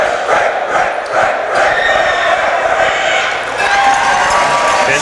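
A student cheering section roaring at a senior boys high school basketball game in British Columbia, a loud, sustained crowd din with swelling shouts and cheers that fills the gym throughout.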